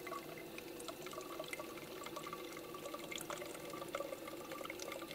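Water trickles and drips steadily as a squeezed bottle pushes it through a water filter outdoors on a wilderness trip, a close, continuous light splashing with small droplet ticks.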